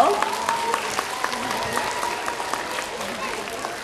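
Audience applause fills the room at the inauguration of an ecological spring event in a town, continuous clapping with a voice carrying over it.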